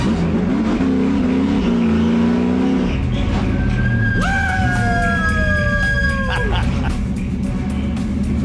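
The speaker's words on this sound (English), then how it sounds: "here he is driving the pit stop car" A NASCAR ARCA Menards Series race car engine roars and revs close by at Charlotte Motor Speedway, pitch sweeping up through the gears, with a shout or cheer partway through.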